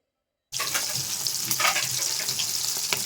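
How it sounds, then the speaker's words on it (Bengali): Pomfret and catla fish frying in a home kitchen, a loud steady sizzle that starts abruptly after a brief silence and crackles on continuously with small spits and pops, no voices. "ওইদিকে হচ্ছিল পমপ্লেট মাছ ভাজা আর কাতল মাছ ভাজা হচ্ছিল"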